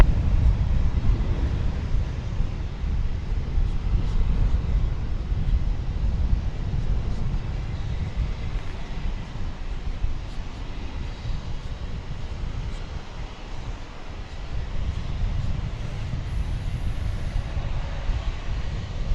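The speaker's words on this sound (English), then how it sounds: "That Delta aircraft, Flight 1291, was an Airbus A319 blasting off for Salt Lake City." A Delta Air Lines Airbus A319 takes off from Dallas Fort Worth airport, a steady, broad roar of jet engines holding strong for the whole stretch with gusty wind noise on the microphone and no voices.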